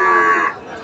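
A heifer calf at a rural cattle market lets out a single short, loud moo, close and clear, fading within a second.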